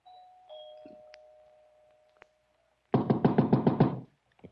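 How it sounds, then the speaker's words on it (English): Doorbell ringing inside a house as a radio drama effect, preceded by a sustained tone and a sharp tap, then a loud chime pattern of about eight rapid rings heard alone without talk. "punched the doorbell, and heard it ring inside"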